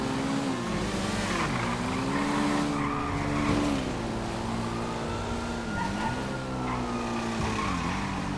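Two motorcycles pass close by, their engines making a loud, continuous droning whine whose pitch rises and falls as they go past, with no break in the noise.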